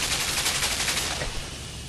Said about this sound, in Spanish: Y me hacen volver a la ametralladora.